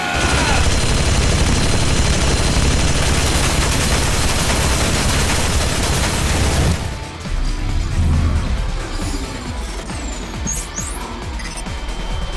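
Gunfire aimed at a character in AI: The Somnium Files, a loud, dense barrage of rapid shots and impacts that cuts off abruptly, followed by quieter scattered clatter and thuds.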